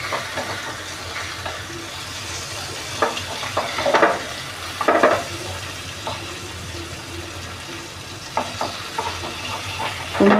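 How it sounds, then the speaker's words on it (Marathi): Small nivti fish fry in a pan over medium-low heat, with a steady soft sizzle and occasional louder crackles and spatters from the oil, close by and alone. "बघा त्या निवट्या फ्राय होतात आहेत मस्तपैकी"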